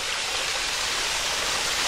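A small waterfall beside a trail in Worlds End State Park, Pennsylvania, gives a steady, even rush of falling water, constant and broadband with no talk over it.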